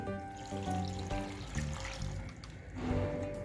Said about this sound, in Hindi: 2 गिलास पानी के डालेंगे